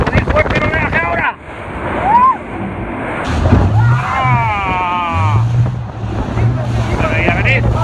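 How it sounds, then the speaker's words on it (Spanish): A speedboat pounds through choppy water near Iguazú Falls, with wind buffeting the microphone and a steady engine drone as the hull slaps the waves. Voices call out over the noise. "Vamos a sacudir fuerte el oleaje ahora."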